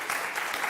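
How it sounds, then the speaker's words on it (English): A brief burst of dense, steady clapping comes from an audience at a talk on staying cool in addiction recovery, heard alone without speech. "give yourself a round of applause"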